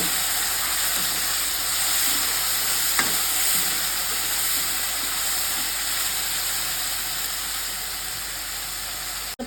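Paste of tomato, ginger, garlic and green chili frying with onions for a fish-head curry with potato and cauliflower, giving a loud, steady sizzling hiss with a few faint stirring scrapes, close up and unbroken.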